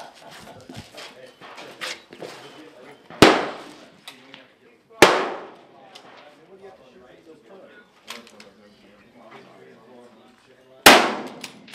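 Rifle shots fired at steel targets during a long-range tactical shooting match: three loud, sharp cracks spaced several seconds apart, each with a ringing decay, among birdsong and people talking nearby.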